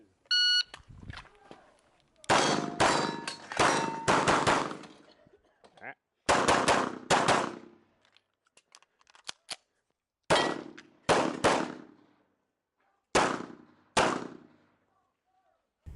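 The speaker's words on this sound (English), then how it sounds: "My plan for stage 6 was to hit the activator, the right steel target, and then the disappearing paper" A pistol fires rapid strings of shots at steel and paper targets on a USPSA match stage, close and sharp, in several clustered bursts separated by pauses, with an electronic beep near the start.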